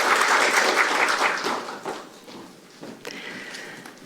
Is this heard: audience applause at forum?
yes